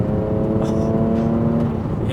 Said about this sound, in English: I love the way it revs. I love the way it builds power.